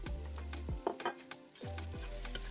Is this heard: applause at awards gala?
no